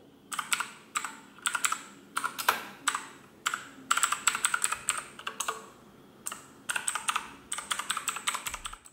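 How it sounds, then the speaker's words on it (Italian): Typing on an Aukey KM-G6 mechanical keyboard with blue switches, a loud, close rattle of sharp clicky keystrokes in quick bursts separated by short pauses, with no voices. "Avete sentito quanto sono rumorosi questi switch blu?"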